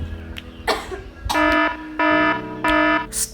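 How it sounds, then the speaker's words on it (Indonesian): A person gives several harsh, forceful coughs to show the wrong way of coughing in public, some short and some drawn out with a voiced rasp, close to the microphone and with no talking over them. "kalian batuk kayak gimana sih?"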